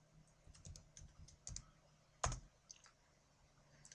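Soft keystrokes patter on a computer keyboard in a quiet office, a sparse run of light clicks with one sharper tap near the middle.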